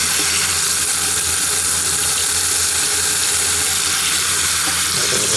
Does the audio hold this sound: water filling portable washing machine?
yes